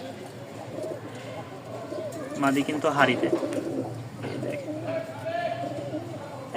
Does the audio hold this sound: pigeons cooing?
yes